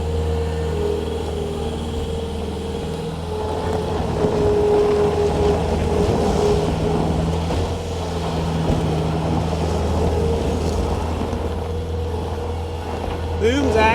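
The Kubota diesel engine of a 2010 Bobcat S250 rubber-tire skid steer loader runs at a steady idle, a low droning rumble that holds constant throughout without revving.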